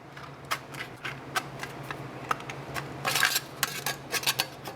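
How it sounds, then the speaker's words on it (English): Scissors snipping through a thin metal windscreen sheet, a string of short crisp clicks and metallic crinkles, close and fairly quiet, with a denser burst of cuts partway through. "Take your scissors and just cut this bad boy in half."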